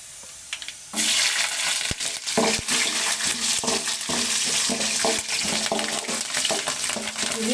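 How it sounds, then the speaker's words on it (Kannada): Green chillies dropped into hot oil in a pan for capsicum chitranna, a sudden loud burst of sizzling that keeps crackling steadily, with occasional spatula scrapes, close and without talk. "ನೀಟಾಗಿ ಫ್ರೈ ಮಾಡಿಕೊಂಡು ನೆಕ್ಸ್ಟು ಇದಕ್ಕೆ ಮೆಣಸಿನ್ಕಾಯಿ ಹಾಕ್ಕೊಳ್ಳೋಣ"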